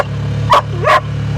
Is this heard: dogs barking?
yes